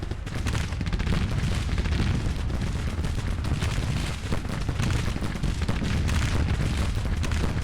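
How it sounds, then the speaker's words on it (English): Soldiers of the 87th Indiana fire long-range rifle volleys in the Civil War strategy game Grand Tactician. The fire comes as a dense, continuous crackle with booming shots and artillery-like rumble layered throughout. "Get a little bit of long-range fire going here"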